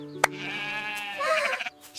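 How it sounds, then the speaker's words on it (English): A sheep on a farm bleats once, a short wavering cry heard up close, with a brief click at the start and no talking. "Fluffy sheep."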